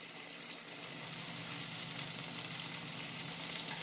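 A cheeseburger patty fries in a pan, giving a constant, even sizzle with soft bubbling, fairly quiet and uninterrupted throughout.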